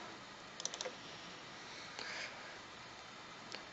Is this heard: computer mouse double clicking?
yes